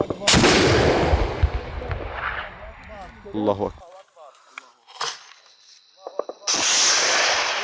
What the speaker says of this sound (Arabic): استهداف مدفع 23 بصاروخ طاقم مضاد روح.